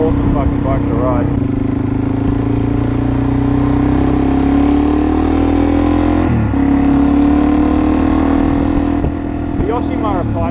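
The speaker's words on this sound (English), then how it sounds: "The Yoshimura pipe sounds fucking excellent though." Suzuki DR-Z 400E dirt bike fitted with a Yoshimura exhaust, its engine holding a steady loud drone that rises slowly in pitch, with a quick dip and recovery midway, running alone and close throughout.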